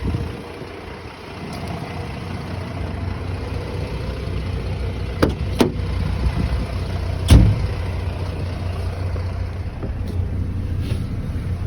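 A truck engine runs at a low steady idle-like rumble while reversing toward a trailer, with a few sharp clicks and knocks standing out over the continuous drone.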